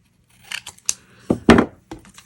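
Scissors snip through paper card in a few short, crisp cuts, close and fairly loud, separated by quiet pauses while making a zigzag cascade card.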